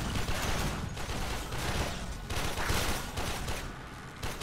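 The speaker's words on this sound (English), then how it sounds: "Shit, I'm shooting my decoy." Continuous gunfire from the shooter game Warframe, a dense rapid fusillade of loud, close shots rattling without pause for several seconds, with no talk over it.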